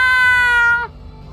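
A single loud, drawn-out cat meow with a clear tonal whine, ending abruptly and followed by faint background hum.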